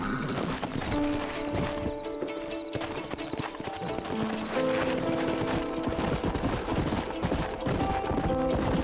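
Horse hooves clip-clopping steadily in the video game Red Dead Redemption, with background music and occasional effects layered over the rhythmic trotting.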